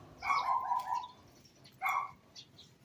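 A dog gives two barks, a longer one followed by a shorter one after a pause, clear and fairly close, with no talking.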